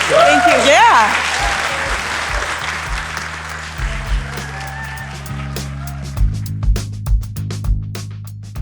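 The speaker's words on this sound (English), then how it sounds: "let's give a big round of applause to our special guest" Live audience applauding a special guest at a live political talk show, clapping strong at first under a speaking voice and music, then thinning to scattered claps and footsteps.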